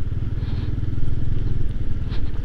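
Motorcycle rolls slowly along a badly damaged, potholed road, its engine putting out a rapid low pulsing throb with some rattling and clatter from the rough surface, close and steady throughout.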